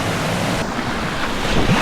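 The Sallent waterfall rushes in a loud, constant roar of falling water with a wind-buffeted edge, steady and unbroken, with no voices.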